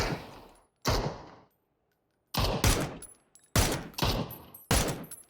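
Gunfire from the video game PUBG rings out in four loud, close bursts of rapid shots separated by brief silences, with no voices.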